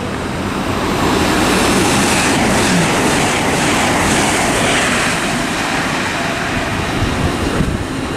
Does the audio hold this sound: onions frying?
no